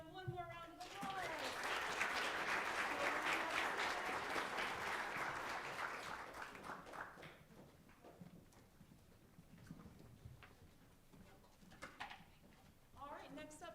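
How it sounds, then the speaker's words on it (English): Audience at a middle school modern music concert applauding performers, loud sustained clapping that swells early and gradually thins into scattered claps and faint room noise. "All right, let's give them one more round of applause."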